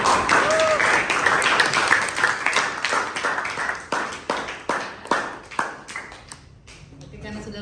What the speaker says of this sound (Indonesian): Oke, tepuk tangan dulu untuk kalian yang sudah berusaha.